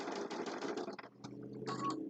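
A sewing machine stitches fabric in a quiet, rapid mechanical chatter that pauses briefly, then resumes in short bursts, heard close and alone.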